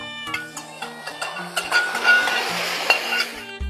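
Ingredients stir-fry in hot oil in a wok, a rising sizzle broken by scraping and clinking of a spatula against metal, starting sparse and building to a dense crackle.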